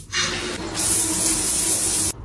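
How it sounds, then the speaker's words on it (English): A jewelry cleaner runs with a steady, loud hissing spray sound that holds for about two seconds and then cuts off abruptly. "This is a cleaner you can use for cleaning your jewelry."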